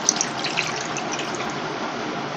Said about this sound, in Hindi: अब मैं ये 1 गिलास भरकर मैंने इसमें पानी डालना है